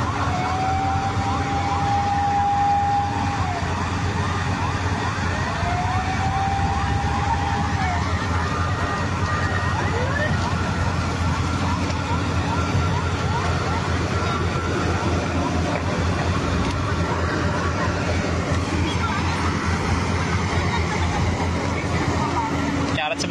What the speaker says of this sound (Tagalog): Ano, daming fire truck.